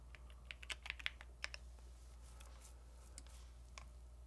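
Someone types on a Bubble 75 computer keyboard, with soft, scattered clicks in short bursts that thin out to occasional taps, faint and close, with no talk.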